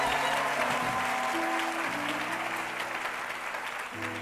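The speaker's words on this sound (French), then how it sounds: "Si tu as été béni, lève bien la main et acclame encore Jésus." Church congregation applauding steadily throughout, a dense sustained clapping with some sustained musical tones underneath, loud and close.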